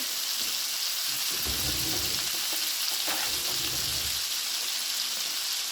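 Garlic frying in a pan for a garlic butter lemon salmon dish, a steady soft sizzle with a few clatters of stirring, close and continuous with no talk.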